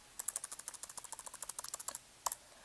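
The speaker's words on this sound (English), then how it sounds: "I can type easily." Rapid, steady typing on a computer keyboard, about two dozen crisp, close key clicks in quick rhythm ending with one louder tap after a short pause, quiet surroundings.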